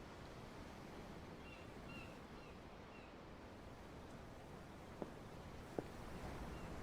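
Ocean surf in Tales of Arise washes as a soft, continuous broadband rush heard from aboard a ship, faint and steady, with a couple of brief clicks near the end.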